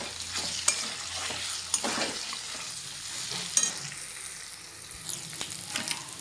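Banana flower curry fries in a pan as turmeric powder is stirred in, a soft steady sizzle broken by a few sharp spoon scrapes and taps against the pan, close and fairly quiet, with no talk.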